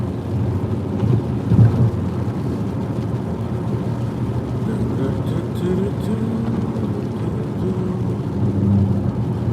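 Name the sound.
rain and snow mix falling outside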